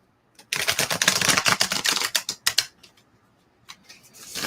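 A Wizard of Oz tarot card deck is shuffled close up, giving a dense run of quick papery riffling clicks for about two seconds, then a few scattered taps.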